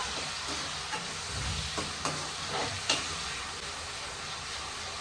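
Tomato and onion paste frying in oil for a cashew chicken curry, a steady close sizzle with soft stirring scrapes and a few clicks of a spoon against the pan, no voices.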